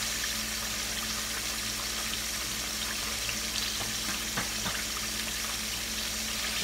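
Fish fries in a pan with a steady, close hiss of oil, broken by a few faint clicks and pops, with no one talking.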